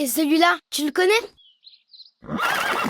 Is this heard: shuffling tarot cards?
no